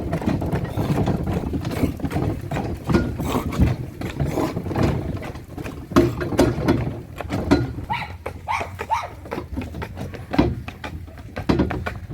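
A Percheron horse walks in harness, its hooves clip-clopping steadily and close by over a continuous rumble of cart or ground noise, with no one talking.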